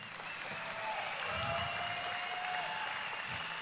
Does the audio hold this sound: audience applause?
yes